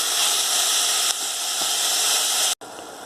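Pork mince, 300 grams, sizzles loudly and steadily in a hot pan while being stir-fried for bolognese sauce, with a continuous close hiss that briefly cuts out near the end.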